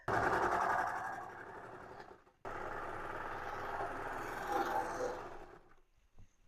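A sewing machine sews the curved edge of a hoodie hood at close range, with a loud, steady motor hum. It breaks off briefly, then runs again for a few seconds before slowing to quiet.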